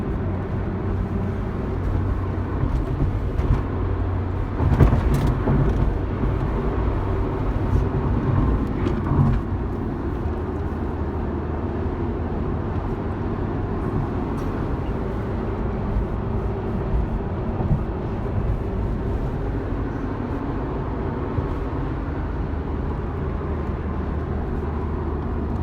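An Acura RSX Type-S fitted with an aftermarket air filter cruises under normal driving, giving a steady, low engine drone with road rumble that stays fairly constant throughout and is heard without talk.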